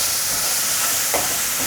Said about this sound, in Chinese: 快速翻拌